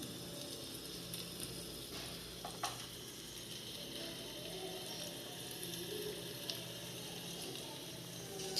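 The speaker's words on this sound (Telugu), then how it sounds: "చిక్కుడుకాయ ఆయిల్లో ఫ్రై చేసుకోవాలండి, అప్పుడే టేస్ట్ బాగుంటుంది" Broad beans (chikkudukaya) frying in oil in a pan, a steady soft sizzle with faint crackles throughout, fairly quiet and without talk.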